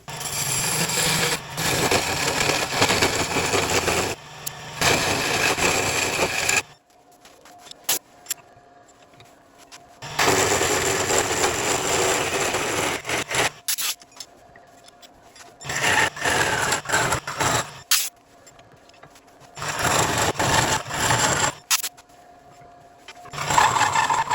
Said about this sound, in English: it is a simpler way to drill out the inside of the large bowl